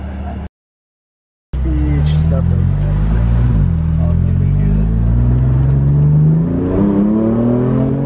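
A brand-new BMW M4 Competition engine revs, its rising growl building steadily and loudly after a short silence, while people talk over it.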